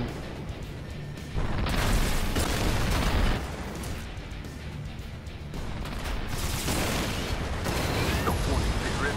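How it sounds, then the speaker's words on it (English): Missile launches and explosive booms ring out in the Strike Vector EX video game, loud bursts and rumbling blasts arriving in uneven clusters with mechanical whirring between them. "Oh, I just shot missiles for no reason."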